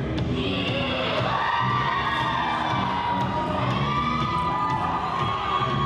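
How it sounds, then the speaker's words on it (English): A pro wrestling crowd at an Alaska tag-team match cheers loudly and continuously, with shouts, whoops and excited high-pitched yelling blending into a dense roar. "Crowd getting into it, they know who's coming."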